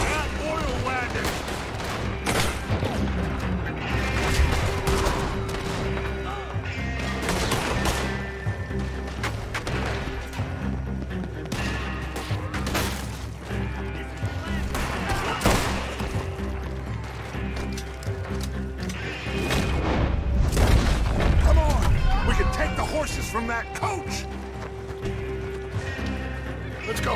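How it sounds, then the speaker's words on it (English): Dense gunfire from a Red Dead Redemption 2 shootout, with volleys and rapid shots running continuously near and loud, horse hooves mixed in, and a heavier blast swelling late from an oil wagon explosion. "Gun them down and let's get the hell out of this place. Shoot that oil wagon."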